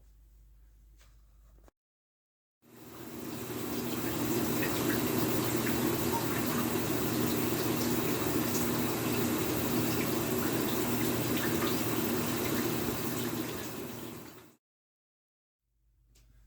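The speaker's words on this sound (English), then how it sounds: "I need a shower." Steady shower water rushes loud and unbroken for about twelve seconds, beginning and ending abruptly, with quiet room tone on either side.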